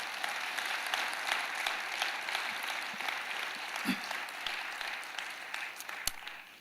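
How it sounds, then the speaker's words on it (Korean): A church audience applauds to welcome an elder, a steady wash of moderate clapping lasting throughout, fairly distant and even, with a few sharper claps standing out. "박수로 맞이해 주시기 바랍니다"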